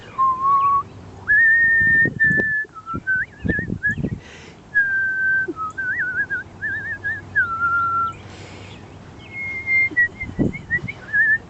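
A woman whistles cardinal-like calls to birds at West Newton Pond, clear rising and warbling whistled notes repeated in phrases. The whistling imitates the birds, with outdoor rustle and a few soft thumps beneath.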